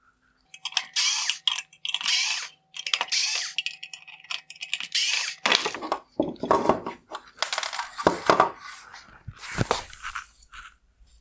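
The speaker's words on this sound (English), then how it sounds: "Next, I'll remove the T10 torque screws holding the projector body together." T10 Torx screws come out of the LED headlight projector of a 2021-2022 BMW 430i, with close bursts of ratcheting and scraping plastic clicks in irregular spurts, loud and near with short pauses between.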